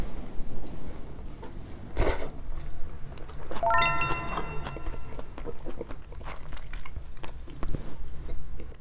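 Someone eating Korean jjimdak with red wine, soft close chewing and biting sounds mixed with a clatter and a brief ringing ding, room noise steady throughout and no clear speech.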